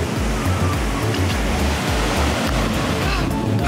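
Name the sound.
ocean surf waves in the Caribbean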